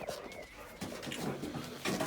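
A dog panting close by in a greenhouse, short breathy rhythmic huffs with light scuffling and background rustle as plants are potted.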